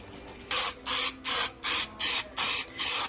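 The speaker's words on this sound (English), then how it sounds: "Give her a good shot of the adhesive spray." Adhesive spray can on a 2013 Ford E-250 4.6L A/C repair, spraying foam onto the evaporator in seven short, evenly spaced hissing bursts, close and loud with quiet gaps between.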